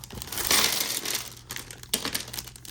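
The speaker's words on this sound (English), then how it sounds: "we cannot get into the noisy bag today without help from the scissors" Crinkly plastic rustling and snipping as scissors cut into a bag, close up, with a louder burst of crackling early on and quieter clicks after.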